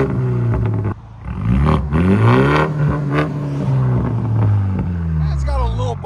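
A 2023 Genesis G70 2.0L turbo with a bottle resonator and muffler delete revs hard several times, loud and close, rising and falling in pitch between blips, with a brief dip before the main revs and people talking around it.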